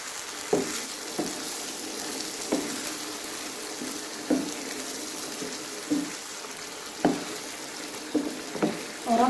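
Beef liver masala being stirred and mixed in a pan after a little water is added, giving soft sizzling with a series of scraping spoon strokes at irregular intervals, close and moderately loud, with no talk.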